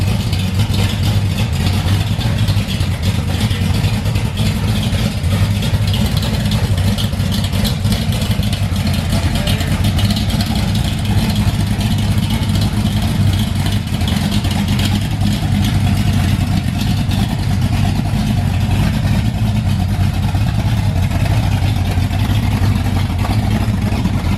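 A 1968 Camaro engine idles close and loud, a deep steady rumble that holds without letup, with faint voices underneath.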